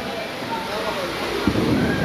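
Heavy rain begins pouring down at an outdoor sixteenth-birthday party: a dense, steady hiss that grows fuller and louder about halfway through, with faint crowd murmur beneath.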